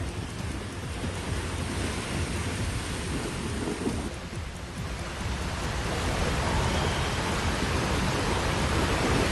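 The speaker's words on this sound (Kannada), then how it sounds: "ಬೀದರ್ ನಗರದಲ್ಲಿ ಧಾರಾಕಾರ ಮಳೆಯಾಗ್ತಿದೆ" Heavy rain pours down in a dense, steady roar over Bidar city, swelling slightly louder toward the end, with no voices.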